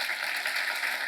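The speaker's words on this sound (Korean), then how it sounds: "이해 간 사람만 박수 한번 쳐봐." Brief burst of steady clapping from a church seminar congregation, a dense, even patter of many hands at moderate level with no voices over it.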